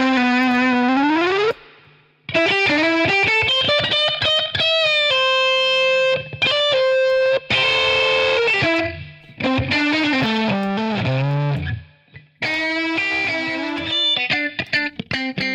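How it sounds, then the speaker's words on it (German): Heavily distorted electric guitar through an amp simulator with effects, playing chords and riffs with brief gaps, loud and close, no voices. "mit Amps, mit Distortion."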